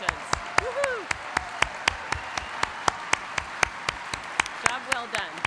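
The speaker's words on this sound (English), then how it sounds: "One more round of applause for these graduates." Applause for nursing graduates at a December 2021 graduation ceremony: regular, rhythmic claps that sound close to the microphone over a softer crowd, with a few brief voices and cheers mixed in.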